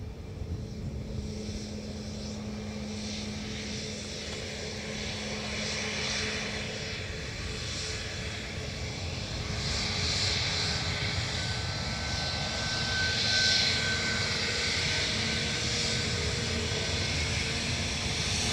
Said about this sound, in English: Ryanair to London Gatwick departing.